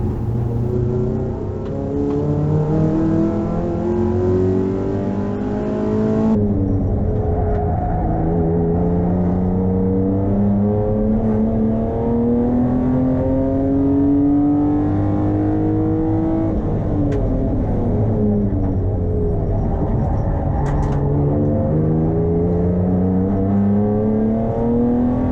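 A race car lapping Hampton Downs circuit roars continuously close by, its engine pitch climbing through each gear then dropping at shifts, repeatedly revving hard and easing off through corners, loud throughout with no voices.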